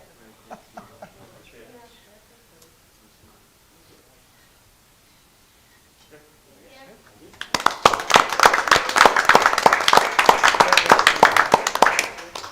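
Quiet, sparse sounds give way to a burst of enthusiastic applause from a city council meeting audience, many hands clapping densely and loudly until the end.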